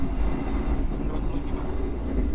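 Interior rumble of a moving New Generation economy-class passenger train on the KA Jayabaya, a steady low roar and rattle filling the carriage continuously.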